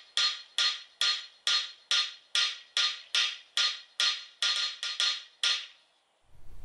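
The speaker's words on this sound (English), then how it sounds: "You can use any flat piece of steel to find out if the hammer is striking square." A blacksmithing hammer strikes a flat piece of steel about fifteen times in a steady rhythm, each blow a sharp close metallic ring that decays quickly, the last few strikes coming a little faster.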